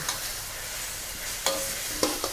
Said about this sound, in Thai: ใส่ลงไปผัดให้หอมเลยค่ะ ผัดกับน้ำมันให้หอมก่อนค่ะ